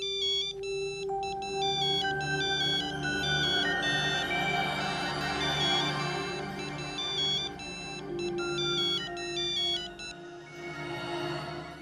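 Mobile phone ringtone playing a bright repeating electronic melody, loud and close, continuous for about ten seconds before cutting off, with no talk over it.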